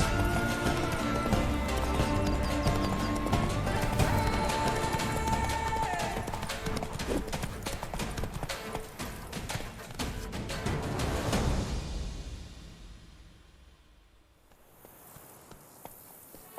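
Rapid galloping hoofbeats of a horse in The Witcher 3 pound steadily for several seconds, loud and close, then fade away into quiet.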